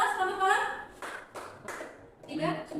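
An audience claps on cue in a classroom exhibition setting, with a few short, sharp bursts of clapping between stretches of a person talking.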